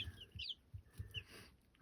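Baby chicks cheep softly in a brooder, a run of short, high peeps repeating irregularly at low volume with no talk.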